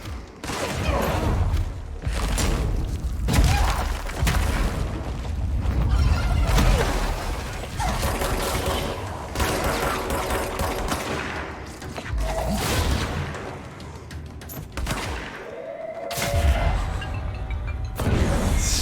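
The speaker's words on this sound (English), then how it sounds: "Lots of explosions." Explosions and gunfire in the video game Control, dense bursts of shots and booming blasts rolling almost continuously, loud and busy, with a faint voice now and then.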